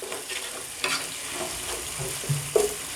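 Ginger-garlic paste frying in a pan for a sorrel-leaf chicken dish, a steady close sizzle with a few soft stirring scrapes and small pops.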